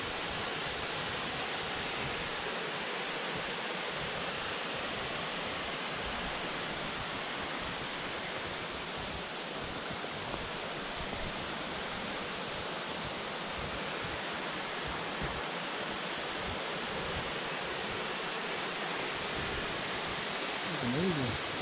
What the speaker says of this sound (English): Betws Y Coed waterfalls.